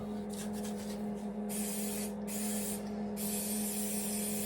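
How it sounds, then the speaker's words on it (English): Several bursts of hissing brake cleaner spray from an aerosol can onto a Stihl 046 chainsaw bottom end, short then longer, over a steady low mechanical hum. "But I'm gonna give it a spray brake clean."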